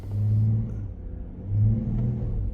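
A car engine with a transmission that has never been serviced and slips out of gear rumbles and revs twice in low, steady surges as it is shifted into drive. No voices are heard over the engine.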